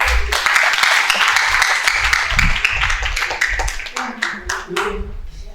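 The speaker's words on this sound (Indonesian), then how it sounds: "wah, kasih tepuk tangan" Audience at a university guest lecture breaks into close, loud clapping, individual hand claps distinct within the crowd, thinning into scattered separate claps near the end.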